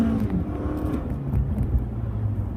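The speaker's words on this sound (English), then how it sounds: "Accelerating from a dead stop, it is a spunky car. It's definitely a 4-cylinder. You can hear the 4-cylinder whine and work." A 2018 Toyota Camry with a 4-cylinder engine pulls away from a standstill, its steady engine drone and whine rising under the throttle and heard from inside the cabin.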